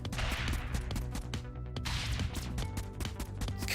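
Rapid, dense gunfire from the video game Convoy, loud and continuous bursts of shots filling the whole moment with no talking.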